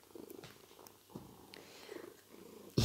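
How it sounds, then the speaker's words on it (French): A cat purrs up close in a soft, steady rumbling rhythm, ending with a sudden louder noise. "Il ronronne."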